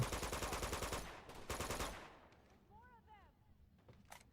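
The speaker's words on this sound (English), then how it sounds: "when we get to the machine gun down here, be careful because enemies can still shoot you" Machine gun fire in the video game Uncharted 2: a rapid burst of close, loud shots for about two seconds, then quieter game sounds with a few scattered bangs.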